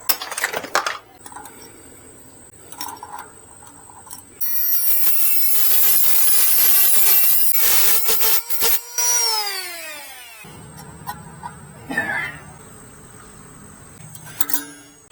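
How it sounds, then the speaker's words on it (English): Thin metal wrench clinking and scraping against a nut on a 52V 750-watt Magicycle Cruiser Pro step-over electric mountain bike. Sharp metallic taps come in irregular bursts, with a long, loud grinding, ringing stretch in the middle and no talk. "So I need a thin wrench to hold that so I can tighten this outer one up"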